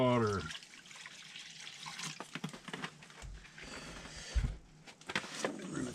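Water runs and splashes from a tap or is poured into a pot for onion soup base while cooking outdoors on a rocket stove, with someone speaking over the gurgling and sloshing.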